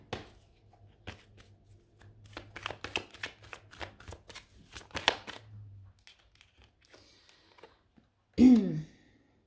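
Oracle cards being shuffled for a reading, a close run of quick papery riffles and flicks that starts sparse and grows denser before fading, ending with one brief louder rustle.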